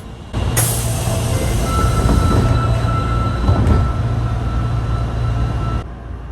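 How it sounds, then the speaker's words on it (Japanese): Osaka Metro train pulling out of Minami-Tatsumi station, heard from inside as a loud motor hum and rolling rumble with a faint whine, steady for several seconds before cutting off. "南辰巳駅を7時54分定刻で発車"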